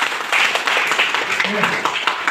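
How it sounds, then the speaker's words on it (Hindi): Audience clapping in a hotel hall after a motivational speech, loud and close, mixed with voices talking over the applause. "चल एक बार जोरदार ताली फिर से अपने लिए।"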